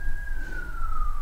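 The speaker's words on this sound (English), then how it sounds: "And the sirens confirm." An emergency vehicle siren wails outside as it passes, a single steady tone sliding slowly downward, loud and continuous over low traffic rumble, with no talking.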